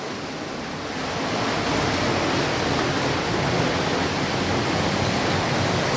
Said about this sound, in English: So that's the sound of the river running underneath.